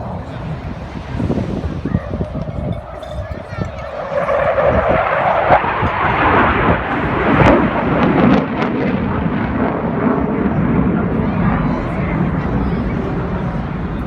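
Historic aircraft flying over the Bournemouth Air Show, a loud rumbling engine roar building and sustained as it passes, with crowd and ambient noise and some speech mixed in.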